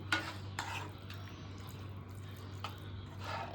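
Multigrain macaroni in a white sauce is stirred in a pan, giving soft, repeated scraping strokes of a spoon at an irregular pace over a low steady background hum.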